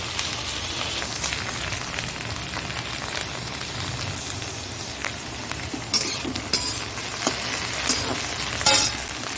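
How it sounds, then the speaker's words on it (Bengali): Okra fries lightly in a pan, a steady soft sizzle with occasional stirring and metal scrapes of a utensil. "ভেন্ডিটা একটু হালকা হালকা ভাজা হোক"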